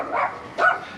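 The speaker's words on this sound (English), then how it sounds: "Dog's going crazy. Crazy dog." A dog barks twice in quick succession nearby, sharp and fairly loud, in a garage where a classic car's front bumper assembly is being installed.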